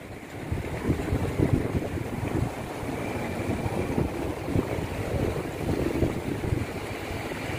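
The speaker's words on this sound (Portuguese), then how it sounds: "E tem muita água rolando aí, pessoal." Broad, steady rush of the flooded Paraíba river roaring continuously under a bridge, with wind buffeting the microphone now and then; no voices.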